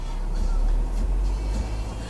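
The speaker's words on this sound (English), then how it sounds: "So we're in the car right now. Of course, I'm in LA traffic." A car moves through slow Los Angeles traffic, heard from inside the cabin as a steady low rumble with road noise and faint passing swells, no clear talk.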